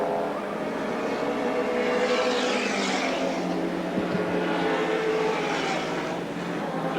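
Touring race cars circuit Lakeside Raceway in a 1984 championship round, engines droning continuously in a dense, steady roar with rising and fading passes, one slower car being lapped.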